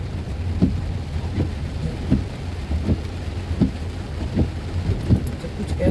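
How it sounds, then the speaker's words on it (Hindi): Heavy rain pours down steadily in Chaklala Scheme 3, Rawalpindi, a dense low roar with faint intermittent thuds or rumbles repeating every second or so, no voices present. "बारिश बहुत तेज़ हो गई है।"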